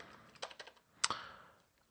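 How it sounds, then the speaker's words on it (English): Rapid clatter of keys on a computer keyboard as a terminal command is typed, a handful of close clicks then a sharper final keystroke, with no talking. "and then you start typing in"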